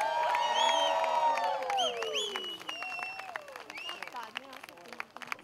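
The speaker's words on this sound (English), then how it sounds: "let's give them a big, big cheer" A Mumbai event audience cheers and applauds for Team Delhi, loud at first with whoops and high shouts over clapping, then thinning out as the noise fades.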